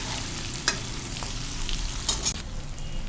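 Malvani masala with red chilli powder and turmeric frying in oil over a lowered flame, a steady soft sizzle with a few sharp clicks of a spoon stirring against the pan.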